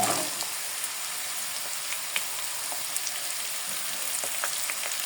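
Sliced sweet pumpkin goes into a pan of fried onions, dry red chilli and five-spice, giving a steady close sizzle of frying oil with small scattered pops and crackles.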